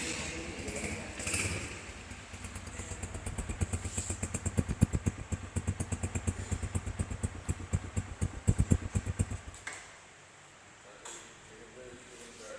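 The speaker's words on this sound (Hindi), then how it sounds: "ये बाइक अभी आइडल कर रहा था।" A Honda CG150 motorcycle engine idles close by with a rapid, even pulsing putter for about ten seconds, then cuts off, leaving a quiet background.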